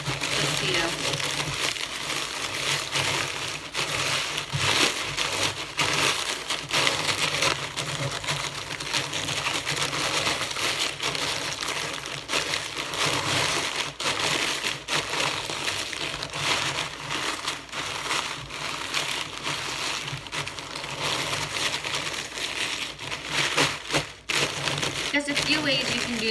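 Crackers get crushed with a rolling pin in a kitchen, a continuous crunchy crackling and rolling grind that runs throughout at moderate level.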